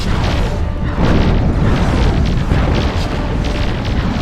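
A destroyed enemy squadron exploding in the space strategy game Nexus: The Jupiter Incident, a loud, sustained rumbling boom that swells slightly after the first second and stays heavy to the end.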